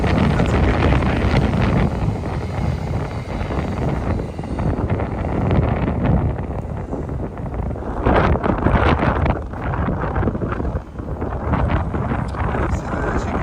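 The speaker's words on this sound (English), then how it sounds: "Windy here again. Very windy here." Heavy wind buffets a microphone outdoors on a city walk in Tokyo, a loud continuous roar with gusty swells that almost completely masks any voices underneath.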